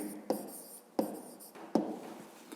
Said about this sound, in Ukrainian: ну і записуємо тоді відповідь